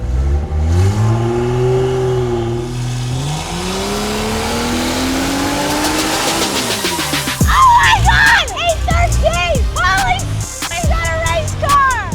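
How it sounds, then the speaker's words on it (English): A Buick Grand National with a swapped Hurricane engine revs hard at full throttle, its pitch climbing steadily and then jumping through gear changes, loud and close with a rough, roaring tone. "When I get it in third, I'm gonna go full throttle."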